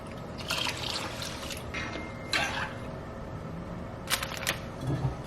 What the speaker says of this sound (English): I'm gonna add 1 more cup of water as well